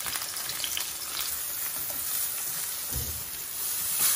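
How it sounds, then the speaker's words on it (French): Courgette slices fry in hot oil with a steady, dense sizzle throughout, close and fairly loud, with faint utensil clicks now and then and no voices. "ودابا غنطيبوا لي كورجيت ديالنا بهذه الطريقه هذه. كتحطهم في الزيت"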